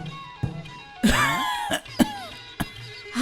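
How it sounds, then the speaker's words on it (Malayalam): A few sharp, harsh coughs from a man with a long-standing cough in an animation, close by, spaced irregularly with throaty rasping between them, with no talking. "നിന്റെ ഈ ചുമ ഇന്നും ഇന്നലെയും തുടങ്ങിയതല്ലല്ലോ"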